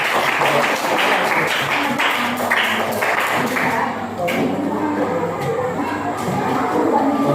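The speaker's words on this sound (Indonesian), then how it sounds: "Silakan kasih tepuk tangan untuk kelompok 1." A sixth-grade class applauds a student group, with steady, dense clapping from many hands for several seconds, moderately loud and close, with children's voices mixed in.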